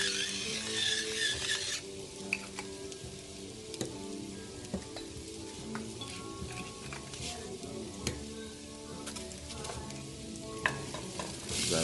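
A seasoned meat sauce with garlic powder and black pepper is stirred in a frying pan, steady sizzling with repeated scraping clicks of the utensil against the pan, close and continuous.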